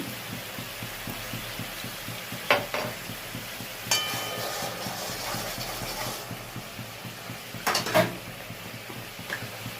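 Potatoes for a white Kashmiri aloo dum, made without onion or garlic, fry in oil with a faint, low sizzle. A spoon stirs and scrapes the pan, clanking clearly three times. It is quiet overall, with no talking.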